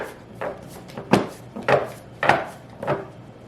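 Tarot cards are shuffled and knocked on a wooden surface, producing five separate dry slaps and riffles spaced about half a second apart, close and moderately loud.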